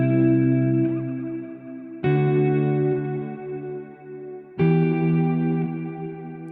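Electric guitar through a Strymon BigSky pedal on its Magneto reverb setting: three strummed chords, each ringing out with a thick, shimmering wash that slowly decays before the next strike.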